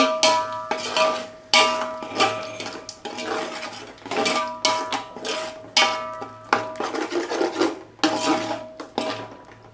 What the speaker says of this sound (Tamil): அந்த தயிரெல்லாம் சேர்த்துட்டு நம்ம கிண்டி கொடுத்துடலாம். இந்த மசாலா நல்லா கிண்டி கொடுத்துட்டு